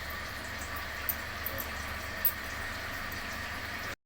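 Water heating in a pot for millet flour chapati dough, a low steady simmering hiss with a few faint bubbling pops, quiet and close, ending abruptly.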